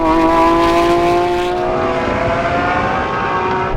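A Lamborghini Aventador SVJ, Ferrari 812 Superfast and Porsche Turbo S drag race, engines roaring loudly at full throttle with a rising whine that fades as the cars pull away.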